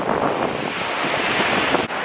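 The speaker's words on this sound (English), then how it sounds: "It is so windy today. The waves are literally ginormous." Strong wind buffets the microphone at a beach while large ocean waves crash, a loud continuous roaring rush with surging swells and no clear speech.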